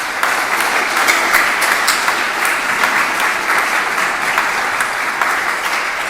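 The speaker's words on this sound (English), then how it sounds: "Let's give them a round of applause." A church congregation at a worship service gives a round of applause, loud dense clapping that holds steady and continuous throughout with no talk over it.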